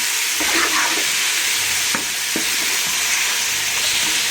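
Tomatoes frying and sizzling in a pan for mutton dum biryani, stirred with a spoon: a steady loud hiss runs throughout, with a few scraping strokes along the way and no talk.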